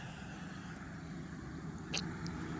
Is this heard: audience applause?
no